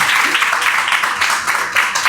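Applause from a school classroom of pupils, a steady dense patter of many hands clapping at once, fairly close and lasting the whole short stretch with no talking over it.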